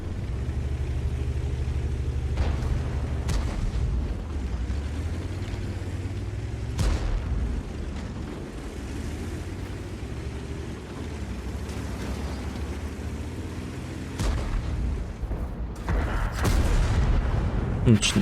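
Tank cannons fire in World of Tanks, with an enemy Patton shooting from a distance. Several separate heavy booms are spread out over a continuous engine drone, and someone talks throughout.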